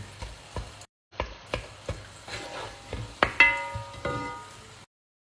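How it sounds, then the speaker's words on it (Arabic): Onions and meat are stirred in a pan, the spoon scraping in a steady rhythm of distinct strokes with clinks against the pan, close up and clear under a faint sizzle. "وقلبهم كلهم مع بعض ليستوي البصل كمان"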